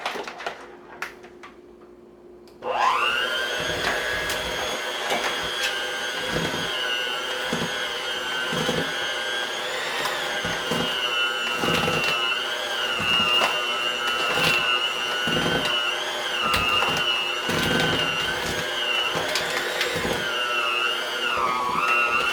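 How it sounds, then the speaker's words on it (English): A kitchen blender whirs loudly and steadily after switching on, blending a poured-in mixture for home cooking, its high motor whine sustained with small pitch shifts and faint knocks, no talking over it. "you're going to need a blender, because you're going to blend this, combine this"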